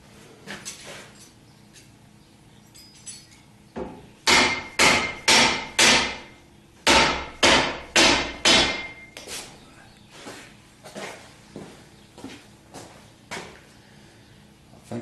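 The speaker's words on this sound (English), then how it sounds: "Try some more taps with the dead blow hammer." A dead blow hammer strikes a hydraulic cylinder on a Direct Lift Pro Park 8S lift under repair, two quick bursts of four sharp knocks each, followed by a few softer taps.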